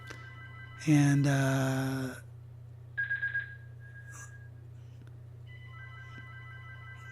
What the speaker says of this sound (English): Phone ringing, let's ignore that.